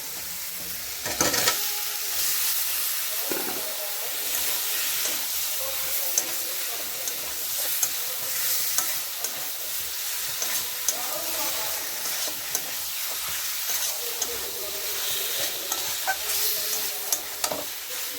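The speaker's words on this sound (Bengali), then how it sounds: "আলুটা দিয়ে ভালো করে নেড়ে নেড়ে শুকনো করে নিয়ে আসতে হবে।" Potatoes frying in egg curry masala, stirred in a pan with a steady close sizzle and hiss, scraped and tossed with frequent small clicks and knocks throughout.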